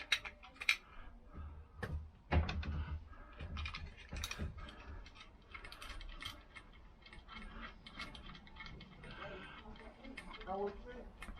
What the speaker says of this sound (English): just take these two screws off and a nut